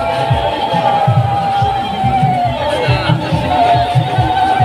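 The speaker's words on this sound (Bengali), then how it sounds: "অনেক ভিড় হয়েছে" A dense crowd murmurs at a Rath Yatra temple festival, with a steady wash of chatter and distant voices, rhythmic thumps low underneath, and loud, continuous noise throughout.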